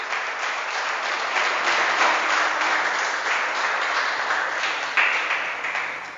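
Congregation applauding in a church, a sustained wash of many hands clapping at steady volume for several seconds, with a brief accent near the end.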